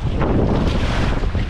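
River rapids churn during a rafting trip, a loud, continuous rush of turbulent water and wind buffeting the microphone, with no pauses.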